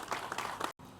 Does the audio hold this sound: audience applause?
yes